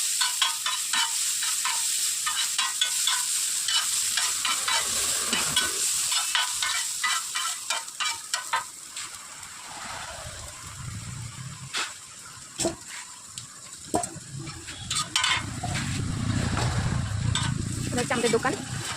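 Meat and onion frying in a pan for a roll filling, a steady close sizzle with scraping and stirring clatter, louder bursts near the end, no talk.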